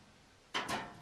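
The ash pan of a Heartland Elmira oval cookstove is pulled open, giving two quick, close metallic scraping slides in quick succession after a quiet moment.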